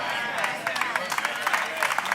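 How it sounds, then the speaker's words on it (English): Audience applause at a sermon: a modest, thin patter of clapping rising and falling over a couple of seconds, with a voice speaking over it. "I'll take it further since your applause is so tepid"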